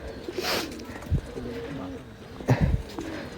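Pigeons of an old Khulna bloodline coo in a coop, with low repeated throaty calls and soft rustles, close by and partly under a man's speech.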